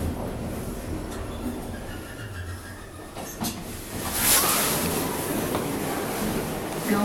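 An Otis elevator car at AMC Assembly Row 12 in Somerville, Massachusetts rumbles steadily between floors, a close, continuous mechanical drone with faint clunks and a brief brighter rattle partway through, no speech.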